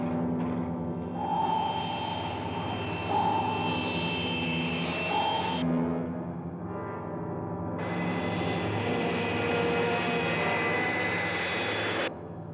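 Engine of the flying submarine from a 1960s undersea adventure TV series taking off, a loud sustained mechanical whine and roar that holds steady, drops briefly, then swells again before cutting off, with no talk.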